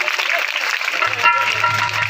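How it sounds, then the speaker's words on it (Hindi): Listeners at a live Bhagavat katha applaud in a steady patter of hands, with a low electronic hum entering partway and faint voices beneath. "ताली बजाई दो।"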